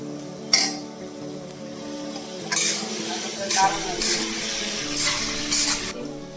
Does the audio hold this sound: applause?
no